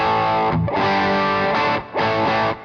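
An electric guitar played through a Klon-style overdrive pedal strums crunchy, mid-heavy chords in a few sustained bursts with short gaps, loud and close, with no talking.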